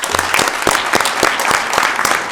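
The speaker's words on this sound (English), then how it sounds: "Let's give them all a round of applause" Applause from an audience at a Sacramento city council meeting, loud and steady with distinct individual claps showing through for a couple of seconds, and no talking over it.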